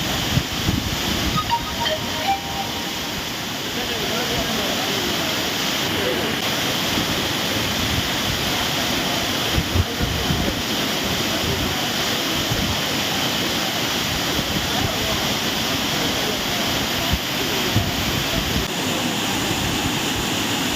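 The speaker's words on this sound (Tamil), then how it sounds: "ஒரு வார கால தடைக்கு பிறகு குற்றால அருவிகளில் இன்று சுற்றுலா பயணிகள் குளிக்க அனுமதிக்கப்பட்டு வருகின்றனர்" Courtallam waterfalls, where tourists are bathing, make a loud continuous roar of falling water, a dense unbroken rush that holds steady for the full length, with no voices heard over it.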